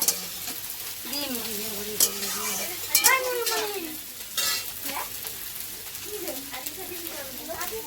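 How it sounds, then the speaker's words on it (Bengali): Eggs fry in a hot pan in a home kitchen, sizzling steadily, with stirring and clinks of a utensil against the pan and voices talking over the cooking. "কি ভাজছো ডিম ভাজছো হ্যাঁ।"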